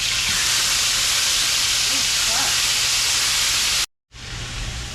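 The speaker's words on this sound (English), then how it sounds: "Now go ahead and start stirring it." A pot of Spanish goat curry sizzles and hisses steadily as it is stirred, a loud continuous sputter with a brief dropout near the end before the frying noise resumes.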